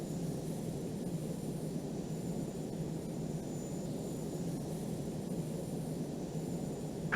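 EF-2000 Typhoon jet taking off in the Falcon 4 Allied Force flight simulator, a steady broad roar of jet engine noise held at constant level without a break.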